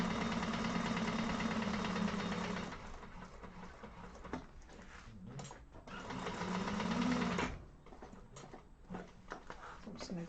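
A sewing machine stitches a hobo bag in steady bursts, loud and close, running for about three seconds, pausing, then running again, with someone talking between and over the stitching.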